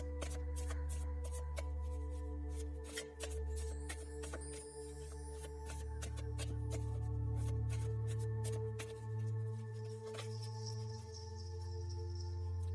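Tarot cards are shuffled in a quick series of sharp, crisp riffles and flicks that repeat throughout, close and clear over a steady background tone.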